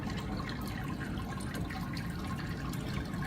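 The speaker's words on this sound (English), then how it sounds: "Look at how fast that water's going down." Water steadily draining down through compacted grain mash in a Robobrew v3 brewing system, a continuous low, gurgling rush that stays even for the full few seconds, with no talk.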